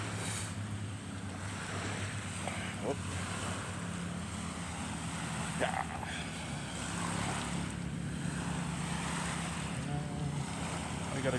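Loud surf breaking on an ocean beach during a morning beach walk, with a boat's wake adding to the steady roar of waves and wind buffeting the microphone; a brief voice comments now and then.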